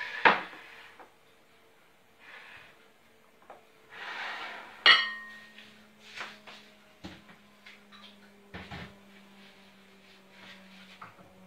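A knife chopping onion on a board in a home kitchen, with sparse, irregular knocks and clatter of utensils and dishes in a quiet room.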